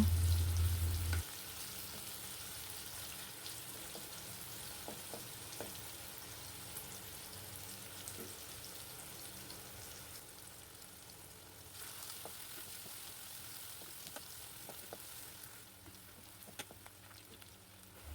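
Chopped onions frying in soybean oil give a steady, soft sizzle with faint crackles, continuing evenly on their own with no voices.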